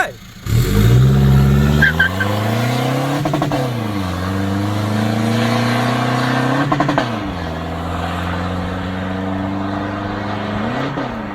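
A remapped, lifted Toyota Revo pickup with a front-fire exhaust and about 23-24 psi of boost pulls away hard. Its loud engine climbs in pitch through several gears, dipping briefly at each shift.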